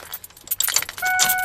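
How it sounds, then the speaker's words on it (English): A bunch of keys jangling and clinking close by, a short burst of bright metallic rattles ending in a faint ringing tone, heard alongside work on a Ford F250. "I'm going to take my keys"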